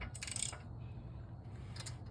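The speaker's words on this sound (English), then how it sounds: "I hear something clicking." Faint metallic clicks from a 1987 Mazda RX-7 rotary engine with a ProCharger supercharger and a suspected bottom-end fault, turned over slowly by hand, a few scattered ticks close to the mic with no talking.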